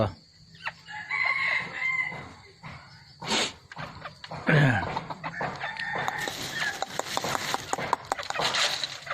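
Crossbred junglefowl chickens cluck repeatedly nearby while a rooster crows once partway through, with scattered rustling and farmyard noise around them.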